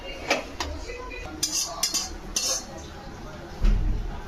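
A metal pot of boiled peas and potatoes is lifted off a kitchen stove, making a few sharp clinks and clatters, followed by a dull thud as it is set down.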